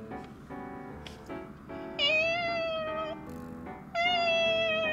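A person imitates a hungry cat with a run of drawn-out, whiny meows. The calls are loud and close, and the last two are the strongest. No one speaks during the sound.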